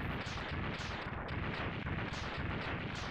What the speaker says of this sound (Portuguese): alguém pula essa explosão